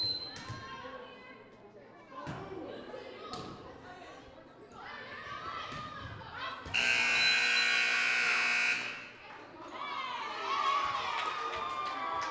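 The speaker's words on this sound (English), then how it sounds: "Errant buzzer there" An errant buzzer at a high school volleyball match blares loud and steady for about two seconds in a gym, over crowd noise, squeaking shoes and ball contacts.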